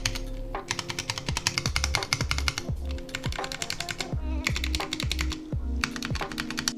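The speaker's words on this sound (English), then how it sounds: "I'm using Halo Trues, and having switched from Cherry MX Reds, I'm pretty happy" Rapid, crisp clacking of a Drop Alt 65% mechanical keyboard fitted with Halo True switches, keys struck in steady bursts with short pauses, close and clear with no talk.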